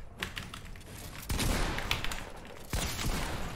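Bursts of distant video game gunfire crackle through a noisy background during a solo tournament match, with a couple of louder volleys partway through and no speech.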